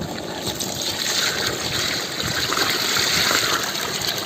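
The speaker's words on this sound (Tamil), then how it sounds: "இப்போ அடுத்து நம்ம தண்ணி சேர்த்துக்கலாம் திட்டமாக" Water poured into a pan of chicken sautéed with masala for Chettinad chicken curry, a steady close splashing gush running unbroken for about four seconds with no talk.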